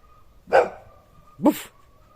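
A dog barks twice outdoors in snow, sharp and fairly close, with a second of quiet between the barks.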